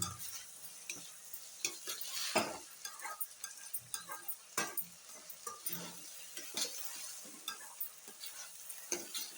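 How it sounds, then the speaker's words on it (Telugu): Taro root pieces stir-fry in a pan on high flame, with a soft sizzle under frequent scraping and clattering strokes of a spatula, close but fairly quiet, no talking. "హై ఫ్లేమ్లో పెట్టుకుని ఒకసారి ఇట్లా వేయించుకోవాలి."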